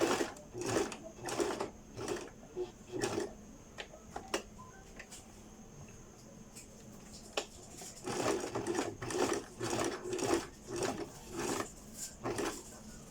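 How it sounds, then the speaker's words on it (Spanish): A sewing machine sews binding onto an inserted pocket in a seam, starting and stopping in repeated rhythmic bursts of close mechanical stitching with a quieter gap in the middle and no voices. "Acomodamos el ribete y cosemos."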